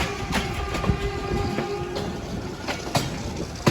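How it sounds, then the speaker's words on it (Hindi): The Khyber Mail passenger train of Pakistan Railways runs past on the Gujranwala–Lahore line, a continuous rumble with rhythmic wheel clicks and clanks at moderate distance. "ये थी जी वन ऑफ खैबर मेल।"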